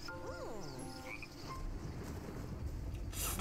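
Frogs croaking in the Fae Farm video game Coasts of Croakia launch trailer, a short burst of layered croaks and chirpy calls over a steady musical background.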